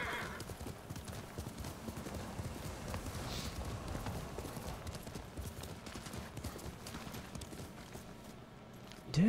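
A horse galloping in the Ghost of Tsushima video game, with rapid, steady hoofbeats close by and constant through the stretch, plus a brief whinny near the end.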